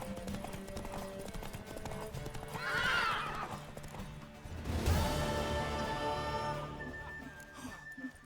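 A horse in The Witcher 3 clops along and lets out a loud, shrill whinny, followed by a heavy crash amid a steady background hum.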